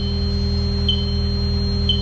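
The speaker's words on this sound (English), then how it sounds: "now we're gonna go back in and quit this beeping off" A Kubota KX080 excavator gives off a warning signal: two short, high beeps about a second apart, heard over a steady low engine hum.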